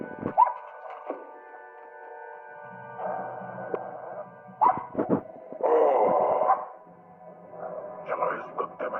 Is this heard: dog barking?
yes